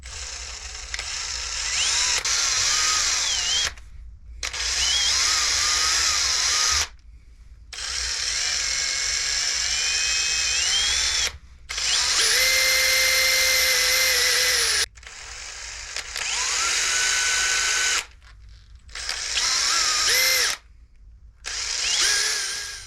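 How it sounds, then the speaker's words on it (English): A small drill whines in several separate bursts with short pauses between, its pitch shifting as it bites into a wooden fishing lure body for pin holes, close and fairly loud. "Gotta drill all these very carefully."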